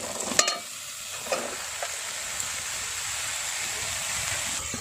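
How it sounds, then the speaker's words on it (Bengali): Bottle gourd is being stirred into spices in a pan of crab curry, village style, with a steady soft sizzle and scraping running throughout and a few louder clatters near the start. "লাউটা দিয়ে এবার ভালো করে মশলার সাথে লাউটা মিশিয়ে নেব"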